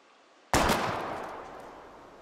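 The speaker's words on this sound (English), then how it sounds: "We're gonna shoot all these bottles without wasting a single bullet." A single loud gunshot rings out from a handgun aimed at bottles in the video game Life is Strange, with a long echoing decay trailing afterward and no talk over it.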